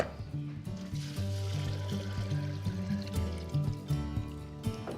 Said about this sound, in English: To that, we'll add some water.